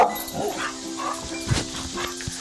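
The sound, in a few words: dog barking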